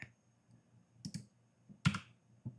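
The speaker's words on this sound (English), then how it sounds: "by selecting and hitting D on your keyboard, you can deactivate" A few sharp clicks of a computer keyboard key being pressed during video editing, three or four separated taps spread irregularly, fairly quiet with a low hum beneath.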